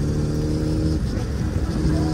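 Harley-Davidson heavy motorcycles ride along a seaside road, a steady loud engine drone with a low rumbling throb throughout, no talking.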